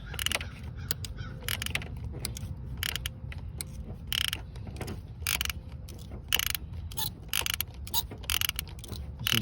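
A socket ratchet works on a tight spark plug in a 2004 Subaru Impreza 2.5 TS engine, with rapid repeated clicking bursts in irregular runs, close and fairly loud, no one speaking.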